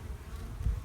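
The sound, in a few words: honey bees buzzing around an opened beehive during inspection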